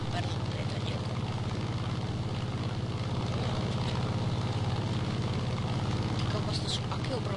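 An F8F Bearcat propeller aircraft drones steadily in War Thunder, its engine holding an even, constant pitch throughout at moderate loudness.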